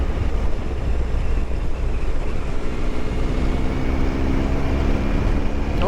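Heavy wind roar buffets the microphone on a Triumph Tiger 1200 XC motorcycle ridden as slowly as possible, a constant rushing noise with a low engine hum faintly beneath.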